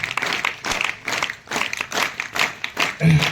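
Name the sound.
audience clapping in a double-step rhythm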